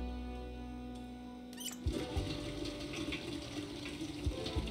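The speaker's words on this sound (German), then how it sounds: "Und dann füllen wir den nochmal kurz mit Wasser." A pot filled with water in the video game Project Zomboid, a steady rushing pour that starts abruptly after a quiet moment and runs on with faint splashes.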